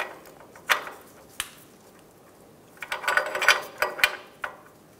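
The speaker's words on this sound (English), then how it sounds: "Torque the O2 sensor to 37 foot-pounds." Wrench ratcheting on a downstream O2 sensor of a 2007–2012 Nissan Altima, close and fairly loud: a lone click, then a dense cluster of quick metallic ratchet clicks and scrapes with short pauses.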